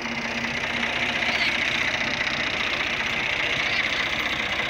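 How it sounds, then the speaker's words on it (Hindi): A tractor engine idles steadily at a village farm, a continuous close rumble with a rough, knocking pulse that holds level throughout with no speech. "यहाँ ट्रैक्टर जा रहे हैं"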